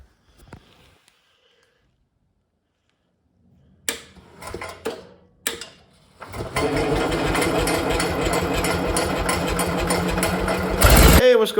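An old Onan 5CCK generator, freshly tuned up, cranks with a few brief attempts after near silence, then catches and runs with a loud, steady rhythmic chugging that rises briefly near the end; a voice speaks before it starts.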